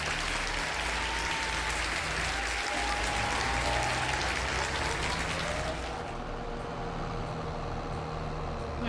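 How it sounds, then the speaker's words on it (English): Dense, steady applause rolls on loud and continuous for about six seconds, then thins a little, with a low rumble underneath throughout. "Give a round of applause for Brad."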